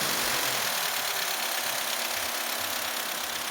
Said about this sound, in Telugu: మొత్తం సైలెంట్ ఇంజన్, పెట్రోల్ వెహికల్